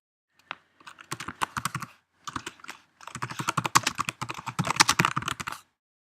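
Close keystrokes on a computer keyboard come in quick irregular bursts, a short pause splitting two runs of typing, crisp and fairly quiet with no other sound.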